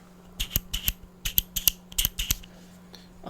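A Pelican 2370 LED flashlight's magnetic switch clicks sharply and slightly gritty in quick pairs and bursts, close and crisp, with a faint steady hum underneath.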